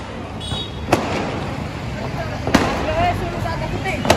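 Diwali firecrackers from a fireworks stall going off outdoors: a few sharp, loud bangs spaced a second or more apart over a steady hiss of street and crowd noise.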